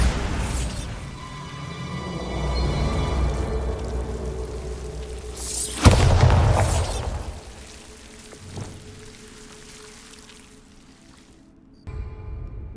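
The Bombarda spell explodes in Hogwarts Legacy: a loud blast with a crumbling, debris-scattering roar that fades over several seconds, followed by quieter rumbling and a brief later thump.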